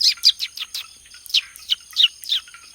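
A bird in a video game chirps in quick bright bursts, two clusters of rapid tweets separated by a short pause, close and clear with no other sound.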